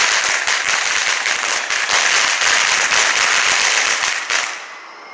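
Fireworks and firecrackers go off during July in foggy San Francisco, a dense, continuous crackle of rapid pops and bursts that stays loud throughout and then stops abruptly near the end.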